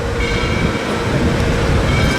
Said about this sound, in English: Now you're riding on one of the first railroads into Chattanooga today.